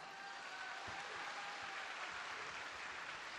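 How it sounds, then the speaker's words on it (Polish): Applause from an audience at a beauty pageant, a faint, even wash of distant clapping held at a steady level throughout. "Raz jeszcze proszę o gorące brawa."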